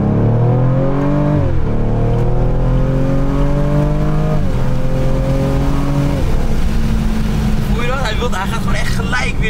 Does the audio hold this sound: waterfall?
no